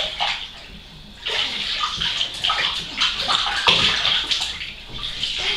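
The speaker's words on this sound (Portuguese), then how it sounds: "Jogando água no chão" A 2.5-month-old baby splashes water in a bathtub, bursts of sloshing and splashing that rise and fall over several seconds, close and fairly loud, with no speech.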